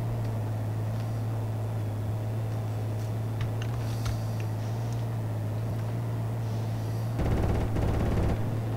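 Gunfire in Project Reality Battlefield 2, scattered distant shots over a steady engine drone, then a loud rapid automatic burst near the end, no talking.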